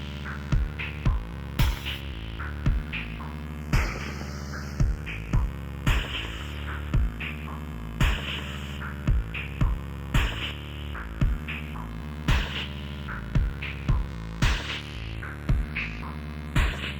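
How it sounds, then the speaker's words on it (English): An industrial-style synth sequence built from samples in Synth VR, with a dense droning hum under a steady, repeating pulse of sharp percussive hits, loud and continuous with no voices. "Starting to sound like another industrial sequence, isn't it?"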